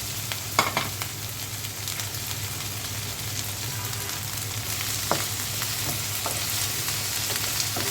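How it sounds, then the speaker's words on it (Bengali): Okra sizzles and fries steadily in a hot pan at home, a continuous close crackle broken by a few sharp pops and stirring scrapes, with no talking. "এখন ঢেঁড়সটা ভেজে নেব।"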